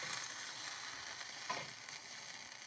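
Tomato sauce with parsley simmers in a pan as it is stirred, a quiet continuous sizzle with a light scrape of the utensil, no voices.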